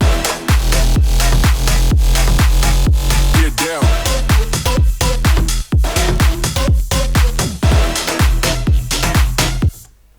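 Drop of an electronic track: a loud, dense dance section driven by a steady pounding kick with claps and layered synths, running continuously to a brief fade at the very end.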